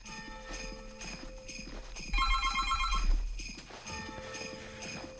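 A telephone rings for an incoming caller on a French radio show, an electronic trill in the middle over muffled studio background and rhythmic knocking.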